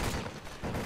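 A brief burst of rapid gunfire in a multiplayer shooter game's team deathmatch, dense and continuous over less than a second.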